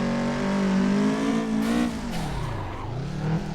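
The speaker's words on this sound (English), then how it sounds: "Bit of clutch kick action, and that's turbo going in and out." A turbocharged Toyota AE86 Trueno in the Assetto Corsa racing game drifts loudly with its engine held at high revs. The pitch dips and climbs as the clutch is kicked and the turbo spools in and out, with tire squeal mixed in.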